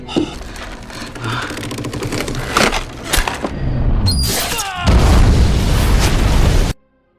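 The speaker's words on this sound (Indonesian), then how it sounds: "Ledakan itu cukup besar hingga menjatuhkan reruntuhan ke arah Napoleon dan Amber" A loud, sudden battlefield explosion in a war film, with a deep rumbling burst and crackling falling debris, rising in intensity before cutting off abruptly.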